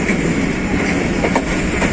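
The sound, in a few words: Pakistan Express passenger train arriving at railway station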